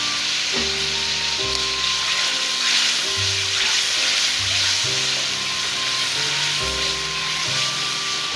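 Tomato paste sizzles and fries in a hot pan of onion, green chilli and herb paste while making chicken palak, a steady loud crackle with stirring throughout, alone and without talk.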